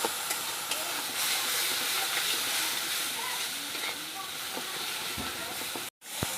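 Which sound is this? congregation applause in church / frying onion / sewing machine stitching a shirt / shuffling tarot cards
frying onion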